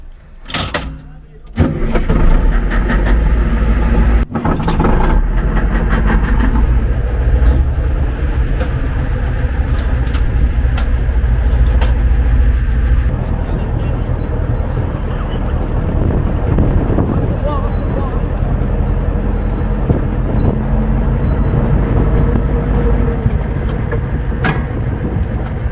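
A military tank at a Liberation 80th anniversary commemoration in Morières-lès-Avignon starts up with a sharp burst, then its engine runs loud and steady with a deep continuous rumble, while people talk nearby.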